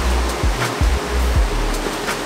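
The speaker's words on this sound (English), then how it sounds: "the waves, they're crashing like very nicely out there" Ocean waves crash on a reef off a tropical beach in Tortola, heard as a steady, loud wash of surf with low rumbling swells and no voices.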